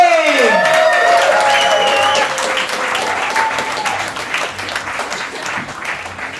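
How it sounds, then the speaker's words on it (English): Audience at a comedy show in a hotel applauding and cheering, a loud sustained wave of clapping and whoops that slowly tapers, with a voice briefly audible over it at the start. "Let's start putting your hands together, make some noise, ladies and gentlemen, for Mr. Glenn Spree!"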